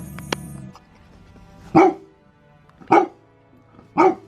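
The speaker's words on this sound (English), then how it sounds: "If you hear" A dog barks three times, spaced about a second apart, each bark sharp and fairly close against a quiet room.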